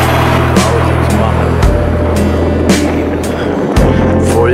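Two tractors pulling trailers pass on a Dutch country road, a loud steady engine rumble and rolling noise continuing close by throughout, with no talk over it.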